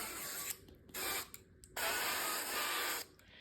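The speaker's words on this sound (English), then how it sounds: "I am gonna spray them with some spray oil." Several hissing bursts from an aerosol cooking oil spray, some short and one long, close and fairly loud with brief pauses between.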